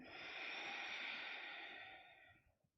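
A long, steady exhale through the nose during a yoga session, a soft airy hiss lasting over two seconds before tapering off, close and quiet with no talking.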